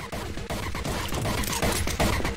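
Uzi gunfire in the shooter Anger Foot, with rapid bursts of shots crackling close and loud over busy game sound.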